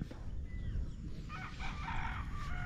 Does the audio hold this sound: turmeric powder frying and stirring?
no